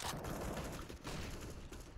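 Gunfire from a shooter video game fills the clip, a dense, continuous burst of shots at close range and high level with no pauses.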